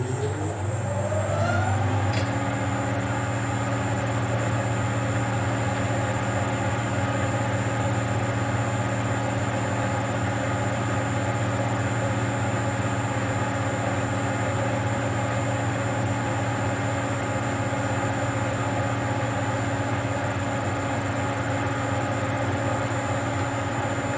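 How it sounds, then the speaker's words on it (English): A spiral fluted reamer cuts through a keyed bore at 180 RPM, giving a steady machine drone with strong sustained tones that rise as it spins up at the start and then hold evenly throughout, with no talking. "I've never tried reaming into a bore with a key before. It is a spiral fluted reamer."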